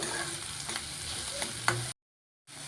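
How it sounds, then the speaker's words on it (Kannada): Spice masala sizzling and frying in a spoonful of oil in a pan, a steady close hiss with faint stirring scrapes, cutting out briefly to silence before resuming. "ಎಣ್ಣೆ 1 ಸ್ಪೂನ್ ಹಾಕ್ಕೊಂಡು ಸ್ವಲ್ಪ ಮಸಾಲೆ ಇರೋದನ್ನ ಹುರ್ಕೊಂಬಿಡೋಣ"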